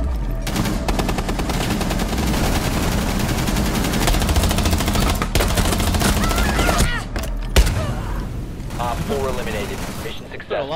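Sustained automatic gunfire in the tactical shooter Rainbow Six Siege, dense rapid bursts filling most of the stretch at close range, then sparser shots with mechanical clatter and brief gaps near the end.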